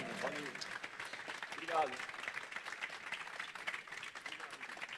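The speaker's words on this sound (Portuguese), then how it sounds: "Uma salva de palmas com força para esse cara." Audience applause at a live talk event, a steady wash of clapping running throughout beneath a voice speaking and calling out.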